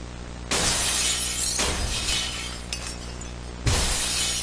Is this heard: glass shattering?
yes